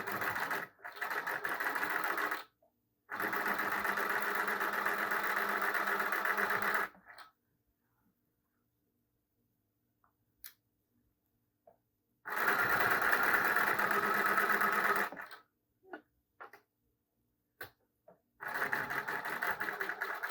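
A home sewing machine stitching straight seams on an apron: fast, steady mechanical whirring runs in two long bursts and a few short ones, separated by quiet pauses.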